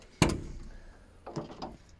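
A one-piece cab door with an electric window on a DIECI telehandler shuts with a single solid thud, followed by a couple of softer rattling knocks and clicks nearby.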